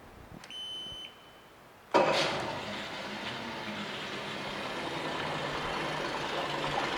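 A 2006 Mercury 50hp four-stroke outboard with a 20-inch remote setup, after a short high beep, cranks and catches, then settles into a loud, steady running roar that continues to the end with no talking.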